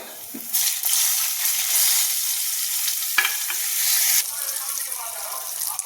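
Black mustard seeds hitting hot ghee, a sudden loud sizzle that holds for a few seconds with a clink partway through, then settles into a quieter crackle.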